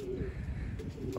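Pigeons stream out of an opened coop, cooing softly and steadily in a brief, moderately faint burst.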